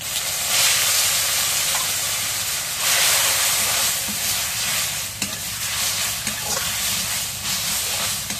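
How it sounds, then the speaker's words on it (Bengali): Leafy greens (marsha shak) stir-fried with onion, garlic and green chilli in oil in a wok, giving a steady loud sizzle with hissing steam bursts and scraping stirs throughout, no talking. "এখন শাকটা ভাজা হয়েছে"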